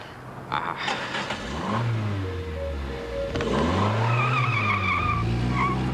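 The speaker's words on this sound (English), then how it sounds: "Chickie in that car just took off." Car speeding off with tires skidding and squealing, engine revving hard through rising and falling sweeps as it pulls away, loud and close with sharp squeals on top and no talk.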